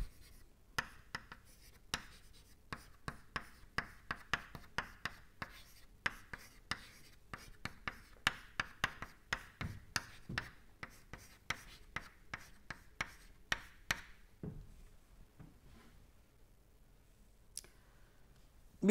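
A lecturer writes equations during a lecture, producing a long run of sharp taps and scratchy strokes at a fairly even rhythm that thins out toward the end, close-miked and fairly quiet.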